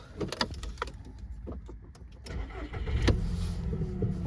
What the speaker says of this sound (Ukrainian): заводиться все без проблем